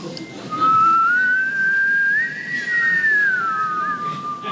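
A single clear whistled tune rises and falls in one continuous line, moderately close and loud over a quiet room murmur during a music quiz show.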